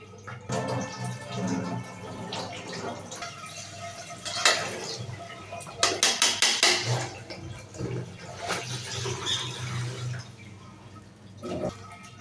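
Water sloshes and splashes in irregular bursts as ingredients for homemade bala chao are rinsed by hand, with a few louder slaps of water and quieter trickling between them, and no voices.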